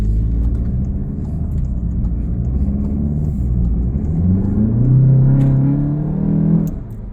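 A Volkswagen MK7 GTI fitted with an S&B cold air intake drives along with a loud, close engine rumble that rises in pitch as it accelerates, then eases off near the end.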